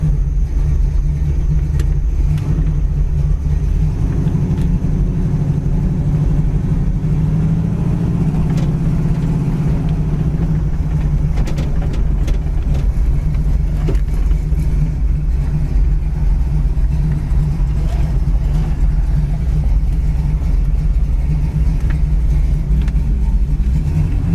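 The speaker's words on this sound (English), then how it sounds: "This thing definitely sounds like a Pontiac 400." The Pontiac 400 V8 engine of a 1979 Trans Am SE rumbles steadily close by, a deep, throaty idle with a slight rise in revs, continuous and loud throughout.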